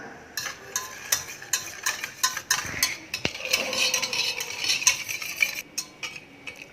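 A spoon stirs rose milk mix powder into milk, making a run of light, rhythmic clinks and taps against the container, close and fairly quiet, with no talking.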